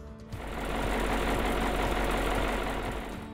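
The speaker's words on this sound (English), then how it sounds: "we're going to start the motor with the rad cap off" A Caterpillar 3208 marine diesel engine on a powerboat cranks and fires, then settles into a loud, steady, knocking diesel idle close to the microphone, with the radiator cap off.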